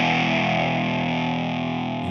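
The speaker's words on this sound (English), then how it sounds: "6-stage phaser pedal" Electric guitar from a Gretsch G6134 '55 White Penguin runs through a 6-stage phaser pedal on its sine wave setting, a sustained, thick chord swirling with a slow sweeping whoosh, loud and steady, played alone without talk.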